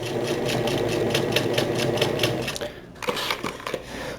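A sewing machine runs a steady, rapid stitch along the back panel of a pair of summer shorts, close and even, then slows and stops near the end with a few softer clicks and handling noises.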